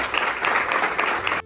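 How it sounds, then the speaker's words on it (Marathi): A room full of people at a bank family day claps in a short, dense burst of applause lasting just over a second before cutting off abruptly. "आपण आपल्या पाल्यांसाठी ना एकदा सगळ्यांनी टाळ्या वाजवूया"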